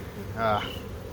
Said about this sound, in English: Now we're going to lose a little bit of those bees that were in there.